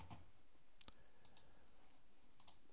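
A computer mouse clicks several times, short and quiet, while working in Microsoft Word, over a faint steady background hiss.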